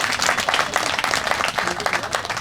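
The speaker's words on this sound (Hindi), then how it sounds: "आप तमाम लोग एक बार तालियों की गड़गड़ाहट से उसका अभिनंदन करें" A gathered crowd breaks into thunderous applause to honour a 108-day effort, many hands clapping densely and loudly without pause, close and continuous throughout.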